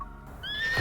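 A horse in the Love & Deepspace video game lets out a short, rising whinny that swells in loudness over under a second, alone without talk.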